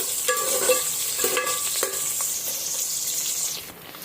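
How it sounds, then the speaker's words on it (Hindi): Chopped onions being stirred in a pan with a utensil while cooking sambar, a steady sizzle under repeated scraping strokes, close and fairly loud, with no talking. "तो यहाँ पे मैंने प्याज डाल दिया है और इनको हम अच्छे से मिक्स कर लेते हैं"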